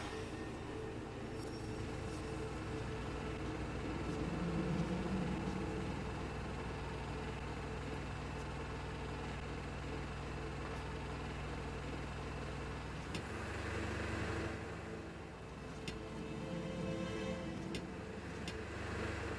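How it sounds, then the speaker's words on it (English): A rail car rolls along in The Vanishing of Ethan Carter video game, giving a steady low mechanical rumble with a faint hum that continues evenly before shifting briefly near the end. "Rail car."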